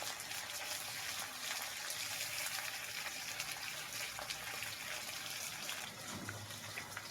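Water splashes and runs steadily as a spice-coated plate is rinsed for a Fasha fish curry. The wash is continuous, close and moderately loud for the whole stretch, with no talk.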